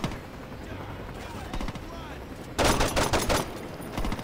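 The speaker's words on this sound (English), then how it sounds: "Oh my god, where am I getting shot by?" Rapid bursts of gunfire in the Saints Row 2 video game, loud and close, with dense automatic shots crowding the second half over a busy game background.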